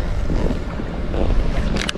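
Strong wind buffets the microphone while pike fishing with lures from a boat, a loud, continuous rumbling roar with gusty surges and faint splashy noise.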